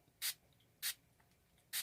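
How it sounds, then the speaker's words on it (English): Three short, sharp hissing bursts of makeup setting spray onto a damp beauty blender, spaced irregularly apart, close to the listener, with quiet pauses between them. "I like to spray the setting spray onto a damp beauty blender"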